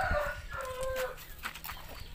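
Domestic chickens clucking in their coop, several soft overlapping clucks and short calls from birds close by, with no talking.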